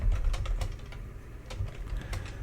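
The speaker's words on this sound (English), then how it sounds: "So look, I type that in, nth prime." Steady typing on a computer keyboard, a quick run of soft clicking keystrokes heard up close and alone, without talk.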